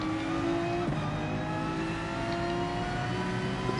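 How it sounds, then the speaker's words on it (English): In the racing video game Gran Turismo Sport, a car accelerates from a start in third gear, its engine drone climbing steadily in pitch with a brief shift-like dip, loud and continuous throughout. "Yeah, taking off in third gear."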